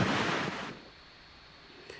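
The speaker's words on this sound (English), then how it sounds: "See how the lake is white capping? It was super windy." Strong wind roars across a whitecapped lake, a loud broadband gust that drops off sharply after a moment to a lower, steady rush.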